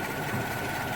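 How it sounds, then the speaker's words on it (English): A 1988 Volga 24-10 engine idles steadily, a brief, close, even rumble with a faint rhythmic knock and no voices. "We're going to listen to the engine, which is running amazing"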